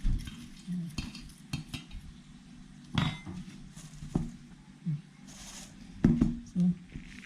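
A spoon stirs a coconut candy mixture in a pot with irregular scrapes, knocks and clinks against the metal, fairly quiet and close, with a voice speaking in between.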